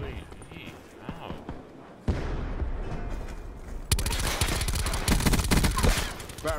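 Gunfire rattles in the game Call of Duty Black Ops 4, rapid automatic bursts growing louder and denser, mixed with game sounds and a player talking over it.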